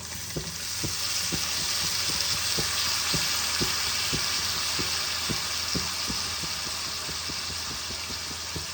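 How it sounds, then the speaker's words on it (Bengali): Ground spice paste frying in a pan for an egg and potato masala curry, giving a steady, dense sizzle throughout, with a regular ticking of stirring strokes underneath. "ভালো করে ভাজবো। এবার আমি বেটে নেওয়া মশলাগুলো দিয়ে দিলাম।"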